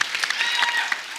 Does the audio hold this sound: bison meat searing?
no